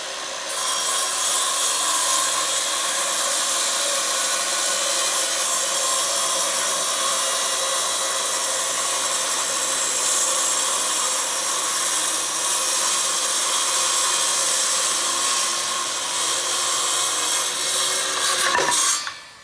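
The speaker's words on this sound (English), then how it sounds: "we're going to cut it into a square just slightly bigger than 2 feet square" A power saw cuts through a square grate panel slightly over two feet across, meant for sifting sand, a loud continuous whining buzz that holds steady for most of the run before stopping abruptly.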